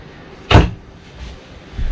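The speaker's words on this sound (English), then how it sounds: "Below the booth, you're going to have a door and a drawer." A storage door below the dinette booth of a 2019 Rockwood Roo 233S travel trailer thumps once sharply as it opens or shuts, followed by two softer knocks.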